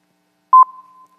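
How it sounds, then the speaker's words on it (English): Two brief electronic tones at the same pitch play back to back in quick succession, loud and clean against silence, trailing off into a faint fading ring. "we took two tones and matched them one after the other"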